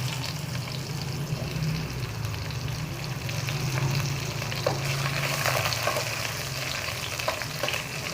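Pointed gourd added to a frying pan for Bengali shukto, giving a steady close sizzle with occasional soft stirring clicks throughout.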